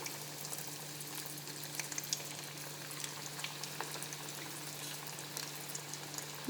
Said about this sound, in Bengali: এখন আমি তেলে একটা একটা করে ছেড়ে দেব